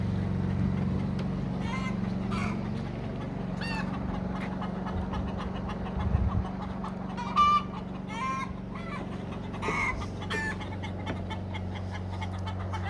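Hens cluck and squawk in agitation outdoors beside a cabin in Alaska while a young eagle is nearby, with repeated bursts of anxious calls over a steady low background hum.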